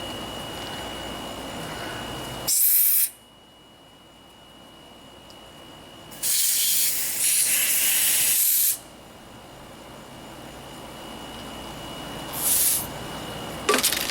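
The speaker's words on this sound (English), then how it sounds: "I'm spraying through all the little jets and everything in here, and I'm getting a lot of old stale gas out of it" Spray cleaner is forced through the small jets of a lawnmower carburetor to flush out old stale gasoline. Three loud, sharp hissing bursts come close up, a short one, then a longer one, then a brief one, with quiet pauses between them.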